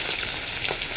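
Fish frying in hot oil, a close, loud continuous crackling sizzle with no talking.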